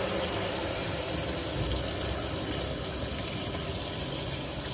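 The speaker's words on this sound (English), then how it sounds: "water comes out nicely." Water running steadily from a tap in a Laika Ecovip motorhome, a constant hissing gush with a faint background hum, even in level throughout and without speech.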